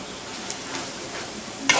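Noodles for a Javanese-style mee goreng sizzle and get tossed in a hot pan, a soft steady frying hiss with light scraping ticks and a sharper clatter near the end.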